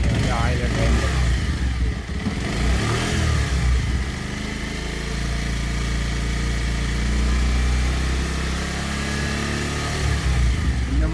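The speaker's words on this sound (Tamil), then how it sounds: "ஒரு 20 டூ 30 செகண்ட்ஸ் இன்ஜின ரைஸ் பண்ணி ஐட்லிங்ல விட்டு" A motorcycle engine runs at home before an oil change, revved and then left idling in a steady, close mechanical drone with slight swells in pitch and a constant low throb throughout.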